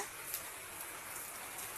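Rain falls on a small garden beside a grassy pond, a soft, even hiss of drops with faint scattered patters, steady and quiet with no voices.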